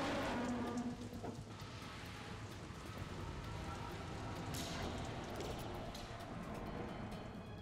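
Steady rain in the video game Metal Gear Solid 2 hisses continuously, even and dense, with a low rumble underneath and no voices.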